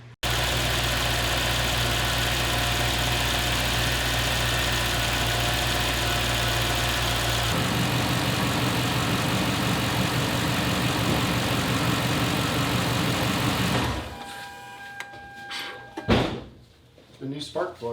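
Toyota Land Cruiser FJ100 engine with new spark plugs running at a steady idle, loud and close, with a shift in its low rumble partway through before it cuts off, leaving scattered handling knocks and clatter.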